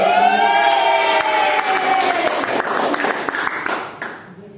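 A fifth-grade class of children claps and cheers loudly together, a dense burst of applause with excited shouts that gradually tapers off near the end.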